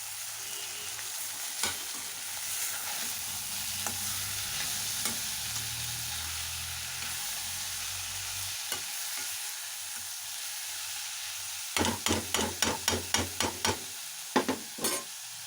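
Boiled banana flower and moong dal are stirred in a frying pan over a soft, continuous sizzle, with occasional scraping strokes and then a quick run of sharp, close spatula scrapes near the end.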